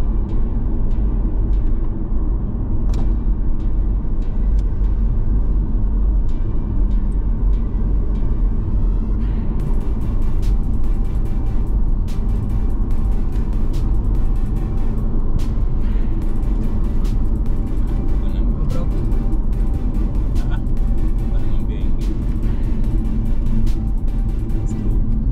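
Interior rumble of a car cruising along the Nairobi Expressway, a loud, steady low road and engine drone with occasional faint rattles and clicks, continuous throughout.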